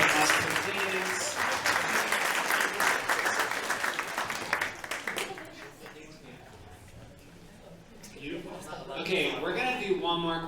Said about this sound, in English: Let's give a round of applause for the ladies.